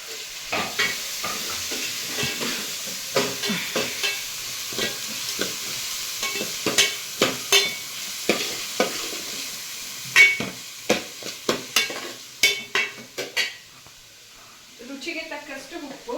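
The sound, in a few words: curry leaves and onion frying in oil with chilies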